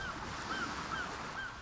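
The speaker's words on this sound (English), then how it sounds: "Seagulls." Seagulls in the video game Lost Ark call four times in an even rhythm, faint and high-pitched, over a constant background of surf and wind.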